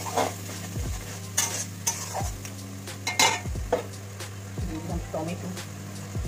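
Spices tipped into a hot pan and stirred, with steady sizzling frying under repeated scraping strokes of a spoon against the metal, close and fairly loud. A low steady hum sits beneath throughout.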